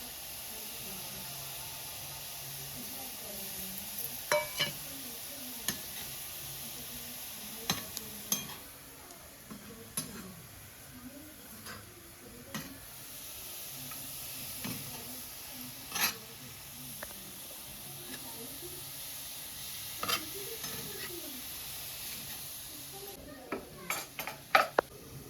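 Leafy greens with onion and chili steaming under a lid in a pot on a wood-fired stove: a faint, steady hiss with scattered soft clinks and taps of utensils against the pan.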